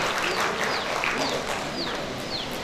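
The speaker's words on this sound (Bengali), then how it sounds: "মিলে জুড়ি করতালি দেন" Dense, steady applause from an audience at a World Adivasi Day 2025 celebration, sustained throughout without breaks, with a few bird chirps above the clapping.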